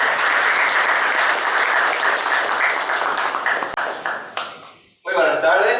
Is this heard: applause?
yes